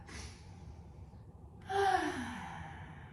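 A deep, full breath taken during a gentle beginner's yoga flow: a soft airy exhale first, then a short pause and a louder, rushing breath close to the mic.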